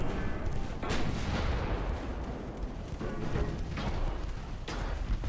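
Warship secondary guns fire in a naval battle in the game Ultimate Admiral Dreadnoughts: a dense run of booming shots over a continuous low rumble, with several sharper blasts standing out.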